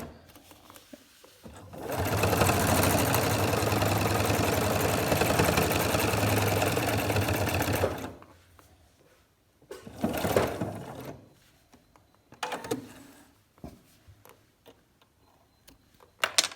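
A sewing machine stitches binding onto a quilt, a continuous fast mechanical chatter lasting several seconds up close, followed by short bursts of stitching and fabric handling.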